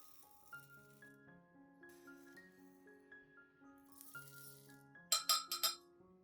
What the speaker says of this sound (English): add 3 tablespoons of rice into a clean glass cup.